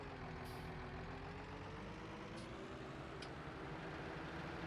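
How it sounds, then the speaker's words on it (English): Telehandler and bale trailer driving in Farming Simulator 19, a steady low engine drone with a rising whine, continuous and fairly close with a few faint high clicks. "We're going to bring down the telehandler and the bale trailer."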